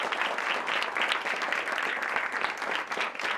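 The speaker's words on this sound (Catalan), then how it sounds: "Un fort aplaudiment per a elles." Audience applause for two visiting women players at a school event, a steady dense wash of many hands clapping for a few seconds, close and fairly loud with no voices over it.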